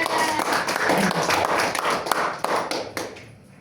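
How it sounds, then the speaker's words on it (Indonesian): A classroom claps for a student during a science micro-teaching lesson: a brisk burst of many hands clapping together, loud and close, fading toward the end. "beri aplaus untuk Adik Wanda"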